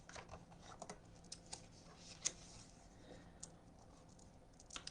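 Archangel oracle cards are shuffled by hand up close in a quiet room, with soft, irregular papery clicks and riffles and one sharper snap partway through.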